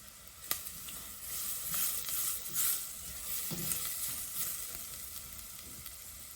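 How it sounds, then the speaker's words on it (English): Food sautés in a pan on medium-low heat, a continuous crackling sizzle broken by occasional stirring clicks and scrapes, with no voices. "I'm gonna saute this up till it gets kind of soft, translucent"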